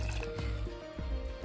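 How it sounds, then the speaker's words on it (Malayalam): Cornflour and water for halwa are squished and mixed by hand, giving soft wet squelches and slaps in an uneven rhythm, close and fairly quiet. "കോൺഫ്ലോർ മിക്സ് ചെയ്യാനൊന്ന് സ്പൂണിൽ ശ്രമിച്ചെങ്കിലും ഏറ്റവും നല്ല നമ്മുടെ കൈ കൊണ്ട് തന്നെ ഒന്ന് മിക്സ് ചെയ്യുന്നതായിരിക്കും"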